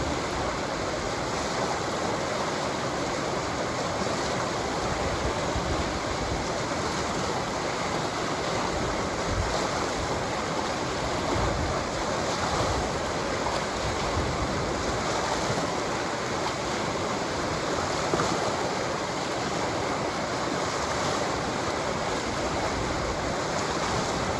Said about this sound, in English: These waves look a little better.